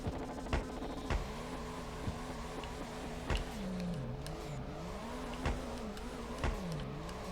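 A drift car's engine in the racing game Drift 21, humming steadily with rising and falling revs as the throttle is feathered, punctuated by short sharp clicks, with no talking.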